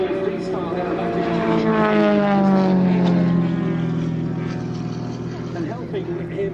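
A large-scale model aircraft flying aerobatics at RAF Mildenhall buzzes overhead with a loud propeller engine whine that sweeps in pitch as it passes, while a commentator talks over it.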